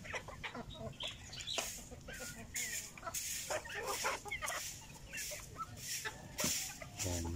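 Several chickens in a small backyard cluck and murmur continuously at close range, with overlapping calls and occasional sharper squawks.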